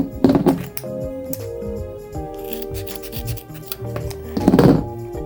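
Scissors cut the tail of a ribbon for a traditional Christmas tree topper bow made on a bow maker. Two crisp, brief snips sound close by, one near the start and one near the end, with quiet handling noise between them.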